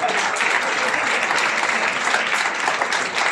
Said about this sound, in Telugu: కరెక్ట్గా 15 సెకండ్ల పాటు ఆపకుండా మీ అమ్మా నాన్నలకి చప్పట్లతో కృతజ్ఞతలు తెలియజేయండి